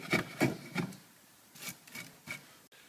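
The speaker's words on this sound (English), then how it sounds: "We can clean this up with a chisel to make it nice and flat." A chisel cleans up a cut in wood on a solid outdoor picnic table, with a few close, quiet scraping and rubbing strokes in uneven rhythm and no talking.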